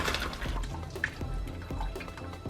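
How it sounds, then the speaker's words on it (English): Hot water drains off boiled spinach in a kitchen, with light splashing, trickling and scattered drips running steadily throughout at a soft level. "Drain hot water."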